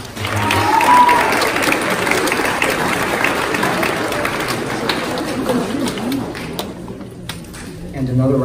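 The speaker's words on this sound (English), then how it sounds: "everyone, by the way, should give Mrs. Connolly a round of applause" Audience applause fills a school event hall, steady and fairly loud for several seconds and tapering toward the end.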